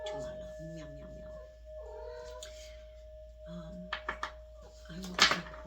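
A cat meows several times indoors, with short tonal calls and a sharp higher cry near the end, over a steady electrical hum and some quiet background voices.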